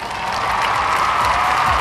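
Continuous applause from an audience at the opening of a Ukrainian talent show festival evening, a dense, steady wash of clapping that fills the whole short moment with no pause.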